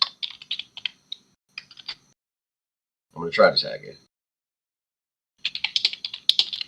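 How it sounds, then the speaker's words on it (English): A new computer keyboard clicks in quick bursts of typing, then pauses while a person speaks, and another run of clicks follows. The keys sound close and crisp in a quiet room. "I know you can all hear my click. That's fine. It's a new keyboard."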